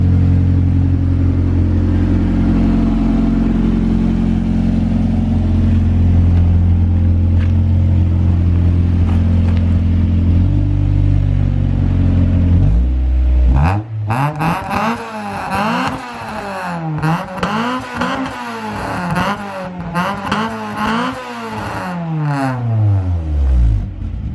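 A Honda race car engine idles with a deep rumble, then revs repeatedly, rising and falling in sharp bursts, close and loud.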